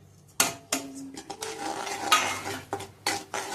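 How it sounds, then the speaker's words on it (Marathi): Crushed peanuts being stirred into melted sugar in a pan for peanut chikki, with clattering utensil scrapes and knocks against the pan, several sharp clinks standing out over a steady mixing scrape. "शेंगदाण्याचं कूट टाकल्यानंतर असं हलवायचं"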